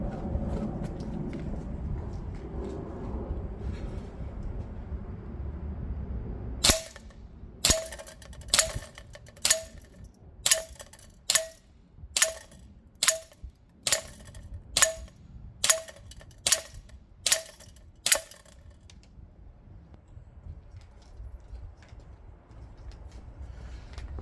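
An Umarex UMP 45 DX gas blowback airsoft gun fires about fifteen sharp, evenly spaced shots outdoors in wet weather, each a crisp crack with a metallic clack, after a stretch of quiet background rumble.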